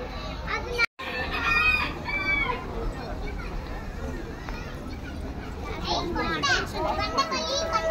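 Chickens and a rooster on a Tamil-speaking farm, with clucks and crowing calls rising through a busy, noisy yard where children play and talk nearby throughout.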